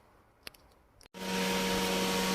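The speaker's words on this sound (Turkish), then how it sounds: "elektrikli fana bağladım. İçeriden test etmek için açtım." Electric cooling fan on a Ford Taunus kicks on after a couple of faint clicks, then runs as a loud, steady whir with a constant hum.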